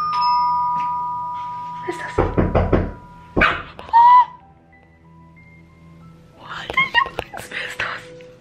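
A rapid series of close, loud knocks on a front door, followed by whispered and spoken voices.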